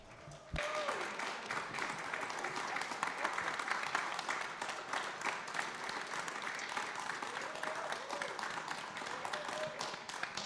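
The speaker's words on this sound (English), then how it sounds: "I think all we have to do now is applaud." An audience applauds after an art talk and presentation, a steady sustained wash of clapping running throughout at moderate distance with faint voices mixed in.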